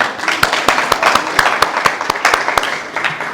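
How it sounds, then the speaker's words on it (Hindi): An audience at a talk on organ and body donation claps loudly and in a steady rhythm, with sharp, evenly spaced claps ringing out close by and no voices over them. "सबसे पहले उस व्यक्ति के लिए जोरदार तालियां बजाई जाए"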